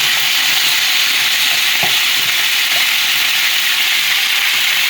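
Eggs dropped into hot oil in a pan give a loud, steady, close sizzle and hiss that runs throughout, with a couple of faint clicks.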